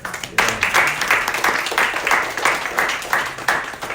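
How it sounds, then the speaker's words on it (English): Rhythmic group clapping, steady and fairly loud, a church congregation clapping together in a regular beat. "Give God a hand clap"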